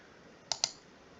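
Two quick, crisp computer mouse clicks in close succession, near and sharp against a quiet room hum, with nothing else happening.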